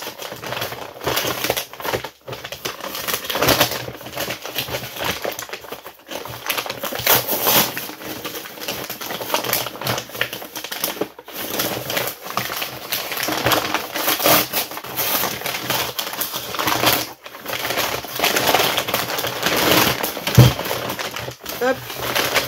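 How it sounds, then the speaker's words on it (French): Paper packaging and envelopes crinkle and rustle continuously up close, loud and busy, with someone talking over parts of it. "ASMR papier."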